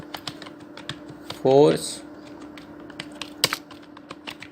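Rapid clicking keystrokes on a computer keyboard as text is entered into an HTML web form, close and crisp, with a brief burst of speech in the middle.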